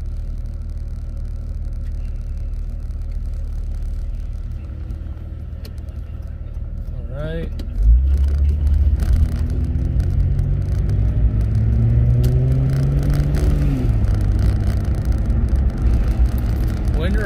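Inside a Jeep Grand Cherokee WJ with a Flowmaster 40 series exhaust cruising on the freeway with the windows up, a low steady exhaust drone and road rumble that thickens as the throttle opens partway through, with a brief spoken remark.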